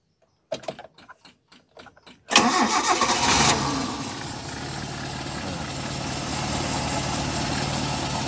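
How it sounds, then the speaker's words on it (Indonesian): A starter motor cranks in several short bursts, then the engine catches with a loud rev and settles into a steady, even idle. "Setelah itu mesin dihidupkan."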